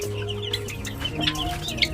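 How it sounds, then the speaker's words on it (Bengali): Chickens cluck softly nearby on a farm while chicks peep in short, high chirps scattered throughout, a busy little flock chattering. "ওই যে মুরগি বাচ্চাগুলো সব ওই সাইডে চলে গেছে রোদ খেতে"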